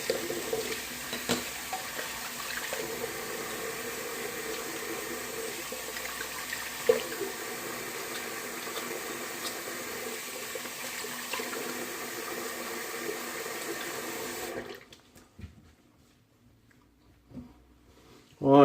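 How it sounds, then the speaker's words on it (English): Cold water runs from a bathroom tap during a post-shave rinse, a steady hiss of flowing water that continues for about fourteen seconds, then cuts off, leaving near silence with a few faint splashes and handling sounds. "Cold water rinse."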